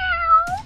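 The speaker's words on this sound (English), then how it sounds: "Yeah, that's a kitty." A cat gives a single short, clear meow that rises slightly in pitch, heard close and alone.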